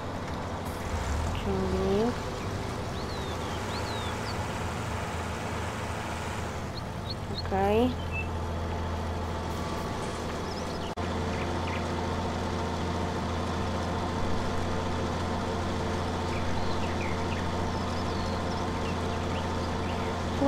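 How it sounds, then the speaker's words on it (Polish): Farm tractor being repositioned during rapeseed sowing and harvest work, a low steady engine drone that runs throughout, with speech and a few chirpy sounds over it. "przestawię ciągnik"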